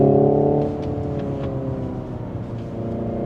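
Steady simulated engine-like whine from a 2025 Hyundai IONIQ 5 N electric car under acceleration, the pitch dropping as it shifts into a higher gear, then climbing smoothly again.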